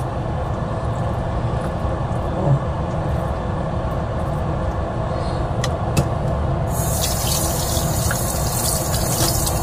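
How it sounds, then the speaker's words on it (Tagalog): Chicken breast rinsed under a running kitchen tap, a steady loud stream of water splashing continuously throughout, with a faint voice in the background. "Hugasan natin ng konti"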